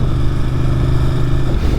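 A Ducati Monster 1200S idles and revs through its exhaust, a loud, close, throaty engine rumble with steady low harmonics that lift slightly near the end.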